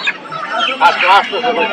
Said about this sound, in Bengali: দর্শক এই দেখুন প্রচুর পরিমাণে মুরগি